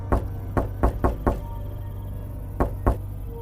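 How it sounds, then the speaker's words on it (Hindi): Someone pounds hard on a temple door: a quick burst of four heavy knocks, a pause, then two more thuds, close and booming over a low hum. "किसी ने जोर से दरवाजा पीटना शुरू कर दिया।"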